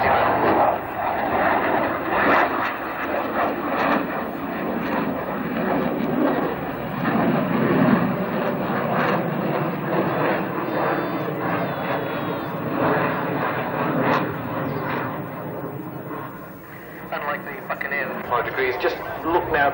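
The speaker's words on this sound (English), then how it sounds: "Just look now at the silhouette as the 25 Squadron Tornado comes in from the right for a high-speed path." A 25 Squadron RAF Tornado jet making a high-speed pass at an airshow, a loud sustained engine roar that builds and fades, heard from the crowd with commentary over the public address.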